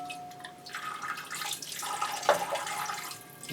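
Clean water pours steadily and splashes into a potted Miltoniopsis orchid, a continuous trickle with a few brief drips, close and fairly quiet, with no speech.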